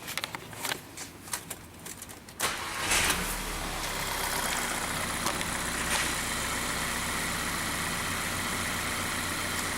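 A Volkswagen 2.0 TSI engine with lean misfires and the crankcase vent unhooked starts after a few seconds of handling noises, then settles into a steady close idle hum.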